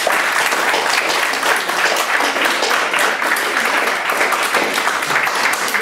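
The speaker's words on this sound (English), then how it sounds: "We'll have a round of applause for all of our speakers." Sustained applause from a seated audience honouring the speakers at a gender equality panel event, a steady dense wash of clapping that holds evenly throughout without voices breaking through.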